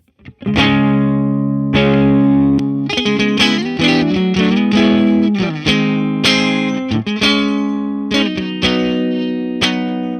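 Electric guitar run through an AmpliTube 5 overdrive pedal with distortion set to 6, playing loud sustained chords and riffs with a thick saturated tone, alone with no talk.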